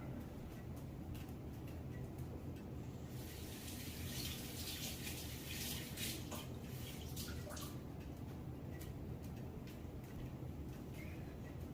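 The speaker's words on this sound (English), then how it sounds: "You just heard me rinse it with water" Running water splashes steadily from a tap over an ice ball being rinsed, with rinsing gurgles and brief louder spatters over a continuous gush, close up and no talking.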